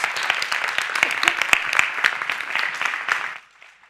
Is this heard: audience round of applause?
yes